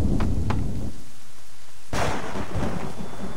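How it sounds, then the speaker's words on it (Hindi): Sharp thunder cracks over steady rain in the video game Assassin's Creed 3 Remastered: two quick snaps, a brief hush, then a loud crash that rolls into heavy downpour. "बिजली कड़क"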